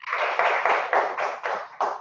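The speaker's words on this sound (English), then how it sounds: "Let's give Dr. Garland a round of applause" An audience at a session applauds, a short burst of clapping with several soft swells, fairly faint and without talk.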